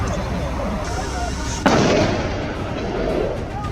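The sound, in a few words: gunshots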